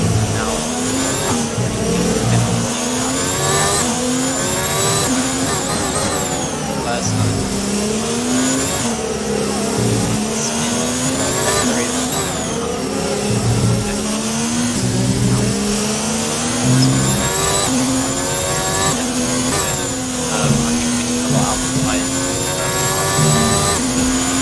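An F1 car engine in F1 2019 at Singapore, revving hard and climbing through gears in repeated rising sweeps with shift dips, loud and continuous throughout, with a voice talking over it.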